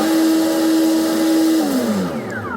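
Twin Tp Power 5670 brushless motors on 6S power drive an oiled catamaran driveline, their loud, steady high whine holding level and then sliding downward as they spin down.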